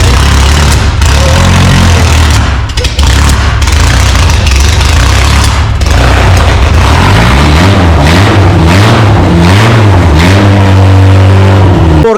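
A Škoda Rapid 1300 engine with an open exhaust, very loud and close, idling roughly and then revving repeatedly in rising and falling sweeps that ends in a sustained high rev.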